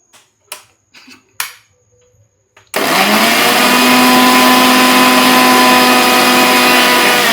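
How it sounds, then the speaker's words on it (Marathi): A few sharp knocks come first, then a kitchen mixer grinder starts up and grinds roasted sesame seeds with a loud, continuous high whir that lasts to the end. "आता ते बारीक करायचे मिक्सरला चांगले"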